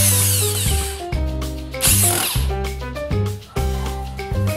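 A power drill drives screws sideways into wood while a DIY tool organizer is built. Several loud, close whirring bursts rise and fall in pitch, broken by short pauses, with no talking.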